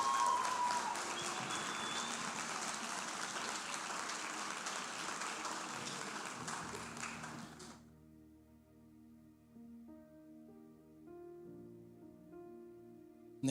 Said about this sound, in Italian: Un applauso ai nostri attori, Bimai.